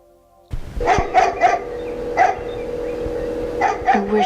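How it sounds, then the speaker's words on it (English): Dog barking in the video game Tender Loving Care, a series of loud, close, evenly spaced woofs in two short bursts over a steady background hum. "I wish that dog would stop barking."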